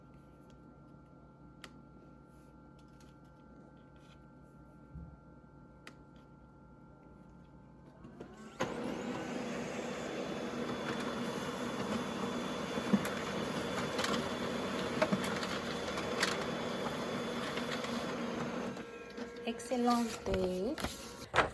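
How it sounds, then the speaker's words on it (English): A home printer runs steadily for about ten seconds with a mechanical whir and faint clicking, loud and close, and a voice speaks briefly near the end as the machine stops. "I just came over here to my printer, and I'm going to print this stuff now."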